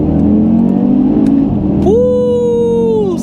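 An Audi TT RS Iconic Edition accelerating hard, its engine droning loudly from inside the cabin before rising sharply into a strong, climbing revving pull that holds for over a second and then eases.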